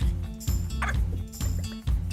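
A boxer puppy barks in quick repeated bursts, close and loud, with a rough rhythmic yapping quality and no talking.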